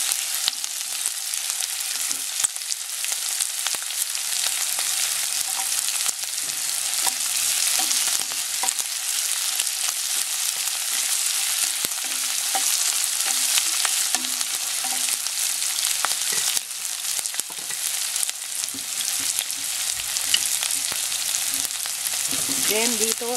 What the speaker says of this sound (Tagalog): Then, hintayin lang natin na medyo maluto yung onion.